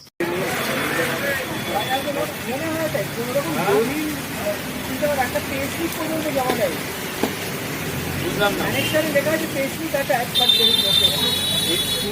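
Street ambience in the Ballygunge area of Kolkata on a rainy day as a tram approaches through a traffic jam, with a steady wash of road noise, horns and a busy crowd murmur throughout.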